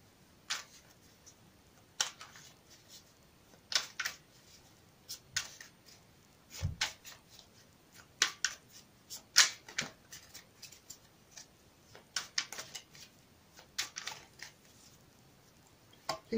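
Soft crisp riffles and snaps of a tarot deck being shuffled repeatedly, in quick irregular bursts, close and quiet.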